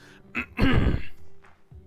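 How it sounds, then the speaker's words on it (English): A single harsh, raspy throat clearing, close and fairly loud, followed by a softer short grunt and quiet breathing. "What is your secret to clearing your throat"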